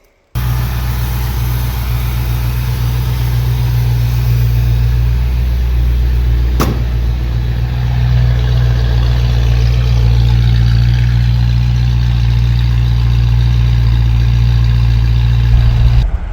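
A small engine idles steadily after a timing adjustment, a close, even running drone with strong low hum that holds for the whole stretch, a brief sharp click partway through and a slight rise later on.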